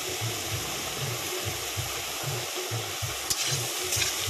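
Spices, chilli powder and turmeric with prawns and banana flower, being stirred and fried in a pan with a steady sizzle and regular scraping strokes of a spatula, close and fairly quiet.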